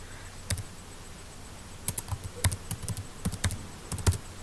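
Colour names being typed on a computer keyboard during a PowerPoint 2007 lesson: sparse clicky keystrokes, one early tap, then quick irregular bursts of close, quiet key presses.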